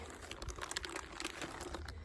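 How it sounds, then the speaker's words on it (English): Thin plastic bag crinkling as it is handled on top of a bokashi compost bin, pressed down and tucked around the edges; soft, close, irregular crackles continue steadily throughout with no voices. "Then we come to the plastic bag that has been pressed down and tucked in all around the edges."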